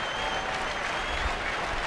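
A baseball stadium crowd at a Houston Astros at Texas Rangers game applauds and roots in a steady, dense roar of clapping and cheering.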